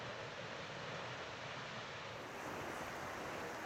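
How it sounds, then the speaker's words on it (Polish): Seljaland waterfall in Iceland, 65 metres tall, gives off a dense, continuous roar of falling water mixed with wind buffeting, steady and full throughout with no voices. "To jest wodospad Seljaland."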